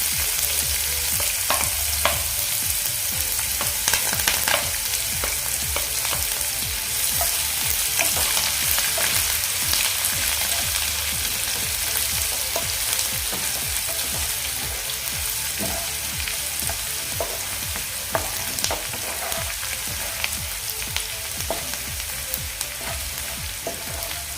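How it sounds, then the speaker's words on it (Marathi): Onion and curry leaves sizzle steadily in hot oil in a pan for a Marathi cabbage bhaji, with a dense continuous crackle broken by frequent clicks and scrapes of stirring, close and fairly loud, with no talking. "आता या कांद्यासोबतच मी कढीपत्ताही घालून घेते"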